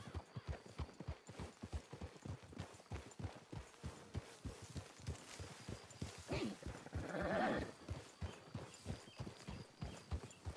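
Horses clip-clop steadily in Red Dead Redemption 2, a brisk, close, regular hoofbeat rhythm throughout, with a brief snort or whinny-like burst partway through.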